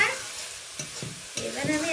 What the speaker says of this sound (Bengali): মশলাগুলো কষানো হয়ে গেছে, হালকা তেল ছেড়ে দিয়েছে